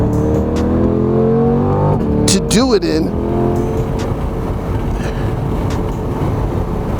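A 2020 Corvette C8, mid-engine, driving on the Monticello Motor Club race track with a loud, steady engine roar and a brief revving swell, heard from inside the car while someone talks over it.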